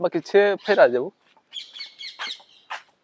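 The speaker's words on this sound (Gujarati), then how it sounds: "ઉપર પોપટ ને પક્ષીઓ ને બધા બોલે છે." Parrots and other birds call overhead along a heritage walkway by the old city wall in Diu, with faint scattered chirps and squawks right after a person finishes speaking nearby.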